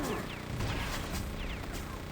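Rocket launcher fire in the arena shooter Quake 2 during a deathmatch, with several quick blasts and whooshes in a busy, continuous game mix.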